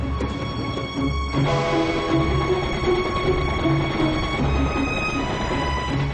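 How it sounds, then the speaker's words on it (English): A train rumbles along steadily through the Nile Delta in Egypt, with a low droning engine, rhythmic clatter and a high whine, continuous throughout with no speech. "the train travels through the Nile Delta"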